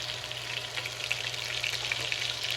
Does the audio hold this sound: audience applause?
no